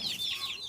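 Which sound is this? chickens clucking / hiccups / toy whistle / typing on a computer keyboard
chickens clucking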